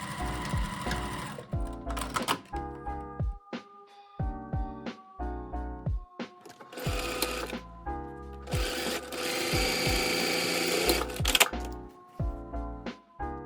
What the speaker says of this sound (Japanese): 5センチの印から下を縫っていきます。 端から1センチを縫ってください。